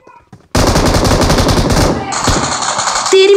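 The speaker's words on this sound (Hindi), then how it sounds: "बंदे पे मशीन गन है यार" Rapid machine gun fire in the battle royale game PUBG erupts after a brief quiet start and then rattles on loud and close. A dense stream of shots continues through the rest of the burst.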